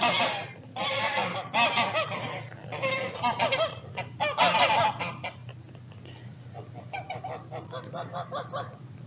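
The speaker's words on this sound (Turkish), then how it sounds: "Kazlar da bağırıyor oradan." Several geese honk loudly in repeated bursts nearby, then continue in quieter, rapid calls.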